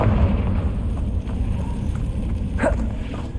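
A Confringo fire spell bursts in the Hogwarts Legacy video game, a dense rumbling blast that fills the whole clip with a brief crackling flare near the end.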